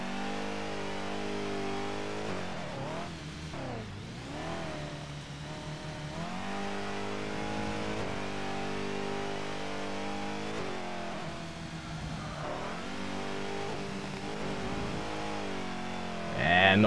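Race cars in ToCA Race Driver revving hard through a Southern European Challenge round, a continuous loud engine drone that rises and falls with gear changes and accelerations, with brief talk over it.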